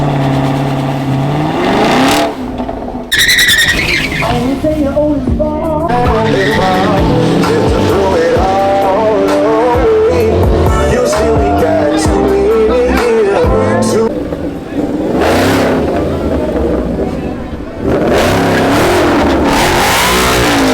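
Drag racing cars revving and launching down a track at a rural drag strip, loud engine roar rising and sweeping with tire squeal, crowd voices talking throughout.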